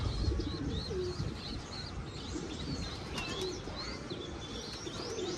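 Pigeons cooing softly, mixed with scattered bird chirps over a steady, faint outdoor hum.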